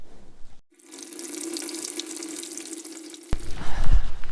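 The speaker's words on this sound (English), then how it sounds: "I think I'm gonna wash my hands." A tap bursts on and water pours into a sink in a steady close rush, then hands move under the stream with splashing and sloshing as the flow is disturbed near the end.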